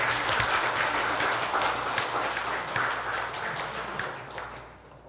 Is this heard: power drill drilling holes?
no